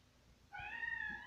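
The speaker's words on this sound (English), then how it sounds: "Oh, that's my kitty." A house cat meows once, a clear rising-and-falling cry of about three-quarters of a second, close to the microphone and following a moment of quiet room tone.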